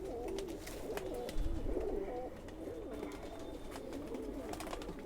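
Khaki pigeons, a Sialkoti breed, coo softly and repeatedly from close by, their low rolling calls recurring through a faint background hum with no one talking.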